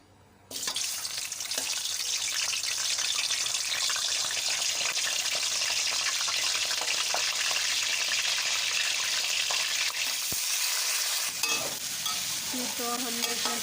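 Chicken dropped into hot oil for a white karahi bursts into loud, continuous sizzling that holds steady for over twelve seconds, with faint utensil knocks near the end.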